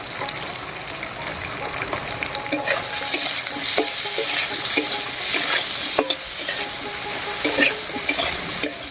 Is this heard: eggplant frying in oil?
yes